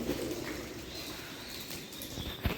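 Pigeons coo faintly and low in an old stepwell inside Uparkot fort, Junagadh, with a soft steady murmur and a brief flutter-like sound at the end.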